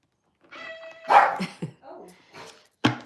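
A pet dog barks indoors in a few sharp, close yips and short barks with brief whimpering sounds between them, while someone talks in the room.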